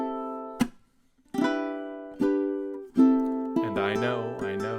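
Plucked ukulele strums a sparse chord ending of a song, single ringing strokes spaced about a second apart and left to decay, closing with a busier, brighter strum.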